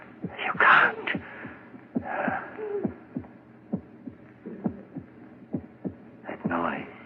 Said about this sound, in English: It's your heart. Beating, pounding, driving the blood through your veins.